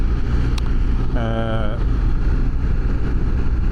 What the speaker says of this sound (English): maybe it's just recording the wind blowing